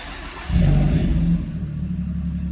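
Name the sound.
car engine with aftermarket exhaust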